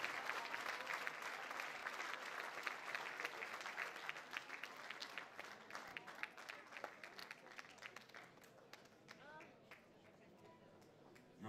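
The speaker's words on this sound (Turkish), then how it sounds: "alkışlar kesilmesin" Sustained audience applause at a Turkish classical music jubilee concert celebrating fifty years of art, dense steady clapping from a large hall crowd that thins slightly toward the end.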